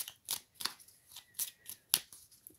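A deck of tarot cards being cut and shuffled by hand, giving a series of sharp, crisp riffling snaps and slaps spaced roughly every third of a second, close and clear with no talk.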